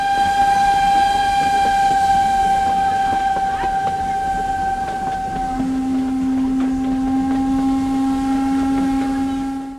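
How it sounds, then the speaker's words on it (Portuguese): The Maria Fumaça steam train arriving at São João del Rei as the lit-up carnival train, its loud steam whistle blowing long sustained tones that change pitch midway, with rumbling and clatter beneath. "O carnaval chegou a São João del Rei de Maria Fumaça."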